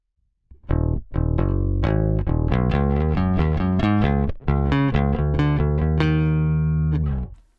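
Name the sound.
clean DI ML USA bass guitar sound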